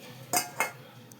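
A wok set on a gas stove gives two quick metallic clatters a fraction of a second apart, close and bright, followed by a faint tick over a low background hiss.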